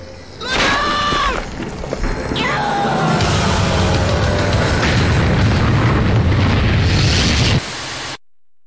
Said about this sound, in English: I'll make this thing blow up from inside.